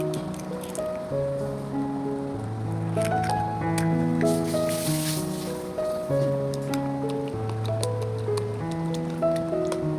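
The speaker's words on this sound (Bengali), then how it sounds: "এখন আমি এখানে একটি ডিম মিশিয়ে দিব" An egg is worked into banana pitha batter, giving soft, wet squishing and dripping sounds under steady background music.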